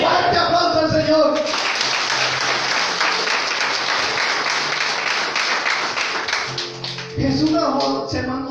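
A church congregation breaks into loud applause for the Lord during a sermon in Guaraní, dense clapping that swells for several seconds before fading, with the preacher's voice heard before and after it.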